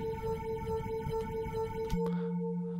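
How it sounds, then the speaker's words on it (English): Bowed bell virtual instrument in Logic Pro X, a steady, eerie ringing tone with a strong sustained pitch and rough bowed texture beneath, shifting to a lower held note near the end, alone and fairly quiet. "that sounds quite odd because we're bowing a bell"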